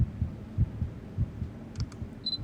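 Heartbeat sound from the horror video game Cursed Digicam, a steady series of soft low thumps pulsing in a regular rhythm, with a few faint clicks near the end and no talking.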